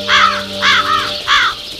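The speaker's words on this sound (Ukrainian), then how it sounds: "Усі тільки махали крилами та зривали голоси." Three loud, close crow caws come one after another in a harsh, scratchy rhythm, like a flock crying out, with no speech.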